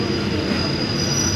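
A passenger train pulls into Ayutthaya station in Thailand on the run from Bangkok. Its steady rumble is heard from on board, with a thin high wheel squeal running over it.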